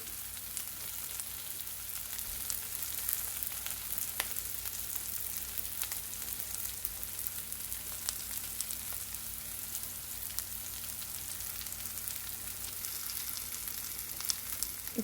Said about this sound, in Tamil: இப்போது வெங்காயம் கொஞ்சம் வதங்கட்டும்